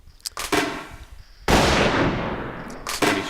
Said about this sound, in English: Somebody's shooting right around me.